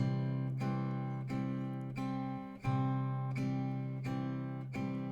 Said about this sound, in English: So what I'm doing there, I'm plucking the A,